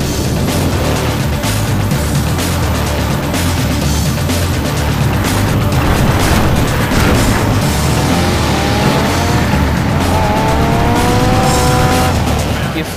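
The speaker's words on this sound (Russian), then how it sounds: "рев мотора, свист тормозов и скрежет коробки передач" A rally car from the Colin McRae DiRT racing game roars at full throttle, engine revving and shifting gears with tire squeal and skidding, loud and continuous throughout.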